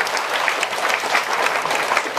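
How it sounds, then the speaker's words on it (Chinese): A lecture-hall audience breaks into loud, steady applause, many hands clapping together in a thick, continuous roar that holds evenly throughout. "请大家给他掌声鼓励"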